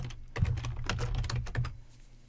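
Rapid typing on a computer keyboard, close and moderately loud, with an irregular patter of key clicks over a low steady hum and no talking.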